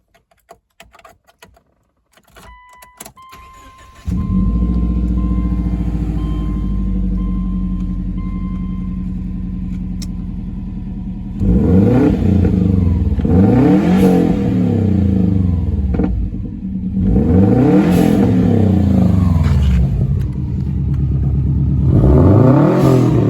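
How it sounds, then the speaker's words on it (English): A Subaru Outback XT turbo with a cat-back exhaust cranks and fires up, then settles into a loud, deep idle before several strong revs rise and fall in repeated bursts close by. "I'm going to start the car now and let you hear it"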